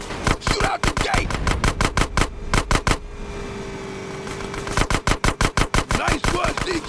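Rapid gunfire in GTA San Andreas while shooting out a sewer gate, close bursts of sharp repeated shots that pause for about two seconds and then resume.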